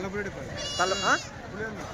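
Goats and sheep bleat at a livestock market, one loud wavering call standing out over other animals and people talking in the background.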